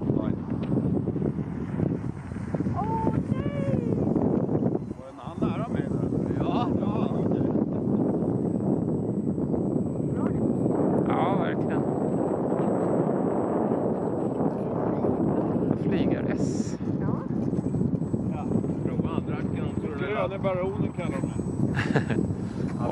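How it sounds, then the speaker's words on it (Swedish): Wind roars across the microphone at Älta lake in January over a droning engine, steady and loud, while people talk intermittently. "Det blåser."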